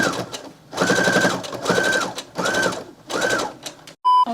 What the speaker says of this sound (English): I sew a line down the middle where the buttons are to keep the shape